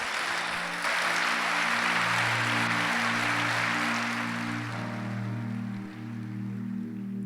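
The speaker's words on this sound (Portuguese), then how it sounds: "Dá um aplauso a Jesus." A church congregation applauds at a Sunday service, a dense, steady wash of clapping that carries on for several seconds over sustained organ or keyboard tones, with no clear talk on top.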